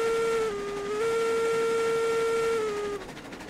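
A steam locomotive whistle in the RailRoads Online video game, sounding as a sustained tonal blast for about three seconds with a slight pitch dip near the start, then fading into a soft hiss.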